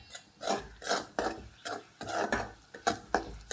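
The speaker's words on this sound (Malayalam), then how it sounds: "ചുമ്മാ അങ്ങോട്ട് ഇളക്കുക." A spoon scrapes and stirs tiger prawn curry masala in a pan, producing regular rhythmic scraping strokes of moderate loudness, each stroke distinct.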